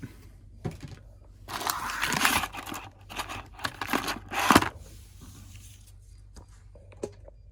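Toy packaging for a Man-At-Arms Turtles of Grayskull figure is cut and torn open, giving close bursts of crinkling plastic and cardboard rustle in the middle, then fading to quieter handling.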